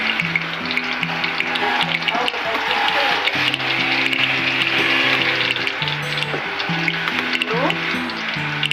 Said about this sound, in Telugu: ఆయిల్ బాగా మరిగింది.